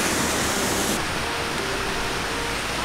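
A waterfall pours steadily and loudly in a hiking area in Utah, giving a dense, even wash of rushing water with no voices.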